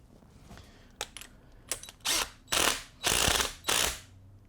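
Ratchet tightening a nylock nut on the idler arm of an RA23 Toyota Celica, a few quick clicks followed by four longer, loud, close ratcheting bursts with no talk.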